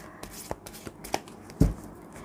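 Tarot cards are handled and shuffled during a Thai-language reading, giving several quiet papery flicks and taps with one louder, firmer card slap near the end, with no talking.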